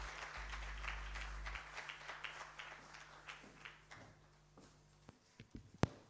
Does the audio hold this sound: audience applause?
yes